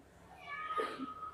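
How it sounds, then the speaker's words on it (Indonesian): A single faint cat meow rises and falls over low room noise during a religious study session. No talk is heard over it. "kucing nyaut"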